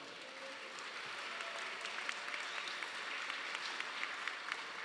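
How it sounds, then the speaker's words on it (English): Audience at an Iron Chef Detroit cooking competition claps in a steady, moderate round of applause heard from a distance, with a few sharper claps standing out. "Another round of applause."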